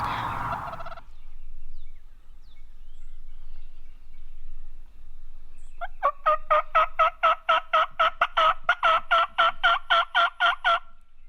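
A wild turkey gobbles repeatedly in a burnt-over open field, a rapid run of rattling, pulsing calls carrying clearly after a brief burst of noise and several seconds of near silence.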